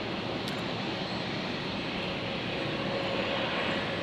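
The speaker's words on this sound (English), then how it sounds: "We've got an Embraer Phantom coming in from the Gold Coast, actually, so it's only made a very short flight." Steady broadband roar of an Embraer Phenom jet on short final into Brisbane after a short hop from the Gold Coast, sustained and moderately distant with no voices.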